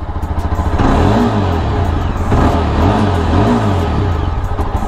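A Yezdi Adventure motorcycle idling in neutral, its engine revved in loud, repeated surges with a throaty exhaust note and mechanical clatter close by; nobody speaks.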